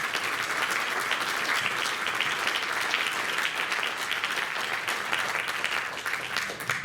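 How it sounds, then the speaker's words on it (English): Sustained applause from a community audience at an evening meet-the-candidates event in Hermann, dense and steady throughout with no talk over it. "please join me in giving them all a round of applause"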